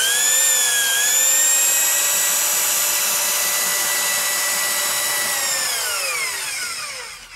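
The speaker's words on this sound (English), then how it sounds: "slowly start the drill." A drain cleaning machine with automatic feed, driven by a drill, gives a steady high-pitched motor whine for several seconds, close and loud, then its pitch sinks as it winds down at the end.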